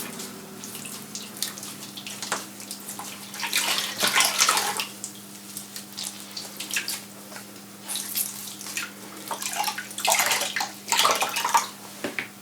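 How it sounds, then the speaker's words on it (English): A hand-dyed yarn skein is dunked a few times into water and squeezed out, with sloshing and dripping splashes in several bursts, fairly close and with no voices. "dunking it a couple of times and squeezing out the water"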